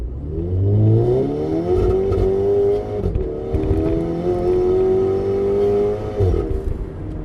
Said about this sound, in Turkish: Mesela bir daha yapalım mesela kick down yaparak. Bu sefer atacak vitesi.